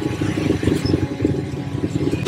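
An ATV engine runs close by on a ride in Tanay, Rizal, giving a loud, continuous rough clattering drone with a pulsing rhythm throughout.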